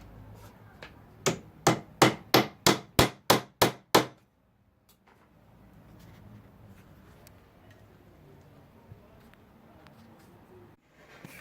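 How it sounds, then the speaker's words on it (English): Hammer tacking a plastic sheet onto a wooden raised vegetable planter built from scrap wood: about ten sharp, evenly spaced blows in quick succession, close and loud, then a quiet background. "what I'm doing is folding the plastic back and just tacking it in place"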